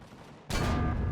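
Base cannons open fire at attacking drones in the Empyrion Galactic Survival video game, a sudden loud burst that erupts mid-clip and keeps roaring as a dense barrage of gunfire.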